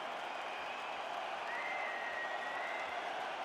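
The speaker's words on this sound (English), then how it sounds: "the crowd voicing its appreciation after that round" Applause and cheering from a UFC arena crowd after a round, a dense, steady wash of clapping and crowd noise sustained at moderate level, heard from a distance without a break.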